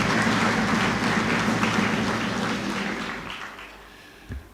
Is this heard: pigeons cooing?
no